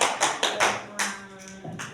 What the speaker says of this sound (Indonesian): Beri tepuk tangan untuk kelompok mermaid.